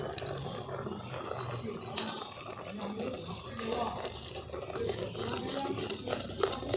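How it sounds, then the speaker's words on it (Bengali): Spoon stirring milk with desiccated coconut in a pan for a potato chomchom sweet, soft scraping and faint clinks running steadily throughout, with occasional louder knocks. "এইভাবে কনস্ট্যান্ট এটাকে নেড়ে যেতে হবে"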